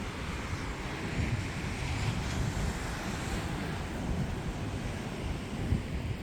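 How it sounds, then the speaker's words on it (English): Ocean surf rolls at Emerald Isle beach in a broad continuous wash, steady and moderately loud, blended with wind buffeting the microphone and no voices. "Here's what the ocean looks like at Emerald Isle."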